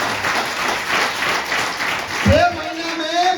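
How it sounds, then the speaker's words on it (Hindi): An audience at a motivational seminar claps in a brief, soft wash of applause, rising and falling in waves before a sliding tonal sound cuts in near the end. "2000 ताली होना चाहिए मेरे लिए"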